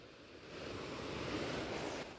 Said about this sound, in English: The waves seem bigger this evening.